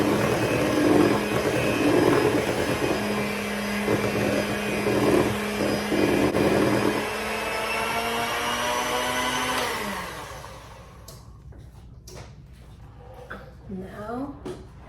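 An electric mixer whirs loudly through butter pecan box cake batter for about ten seconds, then winds down and stops, followed by clinks and rustling, with a voice talking over parts of it.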